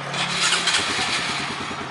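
A Honda MSX 125 motorcycle engine is started up close: a short starter whir catches into a loud, even idle that carries on to the end.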